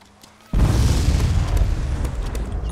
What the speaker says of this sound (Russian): Я прям заехал сюда, и это взрывается.